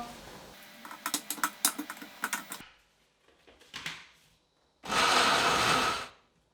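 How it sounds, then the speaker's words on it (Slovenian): A blender whirs loudly and steadily for about a second and a half, blending frozen banana taken from the freezer, after a stretch of clattering and knocking as it is loaded. "Zmrznjeno banano vzamemo iz skrinje, jo damo v blender in zmiksamo."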